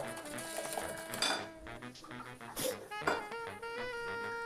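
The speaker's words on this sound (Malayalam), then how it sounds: "ഇനി നമുക്ക് മുട്ട ഒന്ന് നല്ലോണം അടിച്ചെടുക്കാം കേട്ടോ." Eggs are beaten in a bowl for a dates cake, with rapid clinks and scrapes of a utensil against the bowl, close and moderately loud in uneven bursts.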